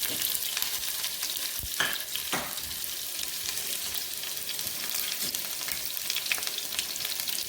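Chopped onion fries in hot oil with popped mustard seeds, giving a steady close crackling sizzle throughout, with a couple of sharp spoon clinks against the pan early on.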